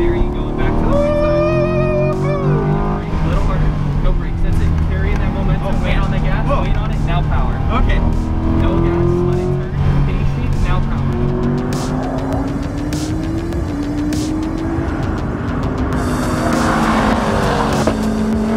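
A C8 Corvette accelerates hard around a Las Vegas race track, its engine rising and falling loudly with a faint tire squeal, under continuous instructor coaching from inside the car.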